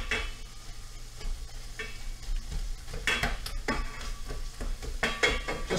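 Pork frying in a pan while being stirred, a steady sizzle running throughout with a few sharp scraping and clinking bursts from the utensil near the end.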